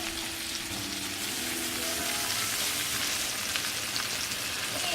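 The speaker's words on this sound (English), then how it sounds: "My shrimp is cooking." Shrimp frying in a pan for Portuguese garlic shrimp, a steady, dense sizzle holding at an even level throughout with no talking.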